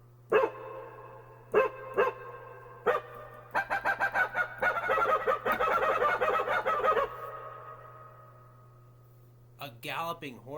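Dog bark sound effect played on a Roland GO KEYS 3 keyboard: a few separate barks, then a rapid run of loud barking that fades into a drawn-out tail, followed by another short burst.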